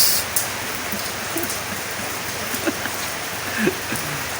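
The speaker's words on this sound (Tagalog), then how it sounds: "Kaya malakas pang ulan." Steady heavy rain pours down as a dense continuous hiss, with occasional louder drips and splashes nearby.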